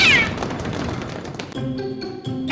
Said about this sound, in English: Whoa, look, cats. What are they running from?